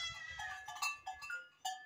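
A young female goat on a farm after light late-afternoon rain bleats repeatedly up close in quavering, nasal cries, with faint background sounds beneath.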